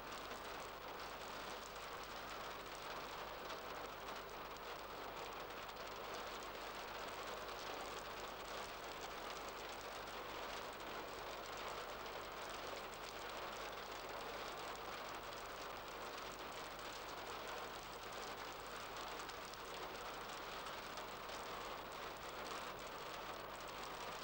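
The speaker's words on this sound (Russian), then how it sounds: "кажется, дождик собирается." Steady, heavy rain pours down continuously, a dense hiss of drops on surfaces with no voices or pauses.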